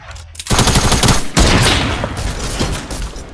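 Rapid bursts of automatic gunfire in the Fortnite video game, loud, dense and near, firing almost continuously for several seconds with a short gap partway through.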